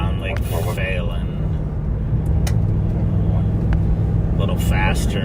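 A police patrol car driving near Lake Phelan, a steady low engine and road rumble from inside the cabin, with brief radio or speech bursts and clicks over the drone.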